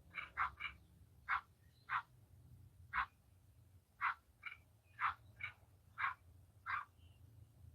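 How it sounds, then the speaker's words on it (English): Frogs croak in a steady, irregular series of about a dozen short, sharp calls, some doubled, spaced roughly a second apart, faint to moderate against a low background hum. "Is that a frog?"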